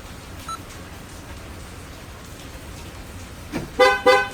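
Excalibur 1670 car alarm chirping twice as the doors unlock by remote, a pair of short bright electronic tones following an earlier faint beep over quiet background.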